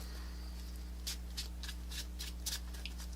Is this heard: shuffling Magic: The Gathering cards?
yes